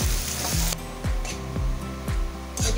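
Chopped onions frying in oil in a pan for prawn malai curry, a steady close sizzle broken by rhythmic stirring scrapes roughly every half second, with no talking.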